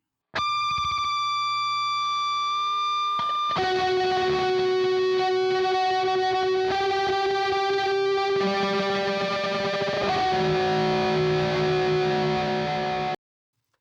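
Electric guitar through Marshall distortion and an Old Blood Noise Endeavor Sunlight reverb pedal, heavy distortion and washy ambient effect, sustained chords and ringing high tones shifting every few seconds, loud and upfront, then cut off.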